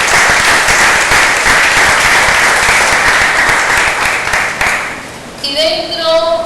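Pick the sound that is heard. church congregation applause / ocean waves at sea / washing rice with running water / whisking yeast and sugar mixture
church congregation applause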